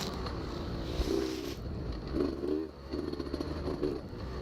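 Beta 200 RR two-stroke dirt bike ridden on double track, engine buzzing and rising in bursts under heavy wind noise, with rattles from the ride.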